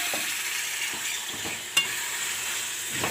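Mutton pieces frying in a pan of onion paste and ginger-garlic paste, a steady close sizzle with soft stirring scrapes and one sharp clack partway through, no voices.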